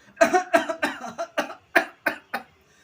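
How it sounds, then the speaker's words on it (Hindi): A run of about eight harsh coughs, close and fairly loud, coming in an uneven rhythm and tapering off toward the end. "फिर उनके पिताजी खांसते हुए"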